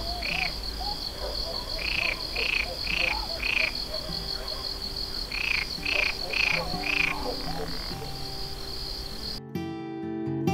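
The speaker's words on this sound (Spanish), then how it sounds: "Y oía cantar del reguerón, que tú sabes dónde está el reguerón, la cegueta de agua que lleva cuando viene, las ranas que eran un encanto." Frogs croak near an irrigation water channel, in repeated bursts of several calls spaced a second or two apart, over a steady background of chirping insects.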